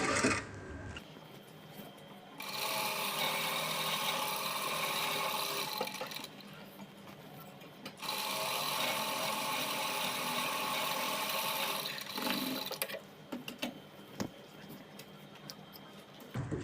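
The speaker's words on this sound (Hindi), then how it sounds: "हम एक बारीक सिलाई करेंगे पहले मशीन की" A sewing machine stitches a fine straight seam on a garment neckline in two steady close bursts separated by a short pause, with light handling noises between and after the runs.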